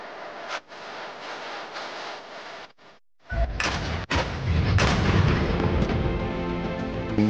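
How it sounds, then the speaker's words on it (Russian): A 152 mm artillery gun fires once in combat with a deep, powerful boom, followed by a long rumbling roar; rustling and handling noise come before the shot. "Я по компасу завожу пушку, раскладываем ее, ориентируем, наводим и стреляем."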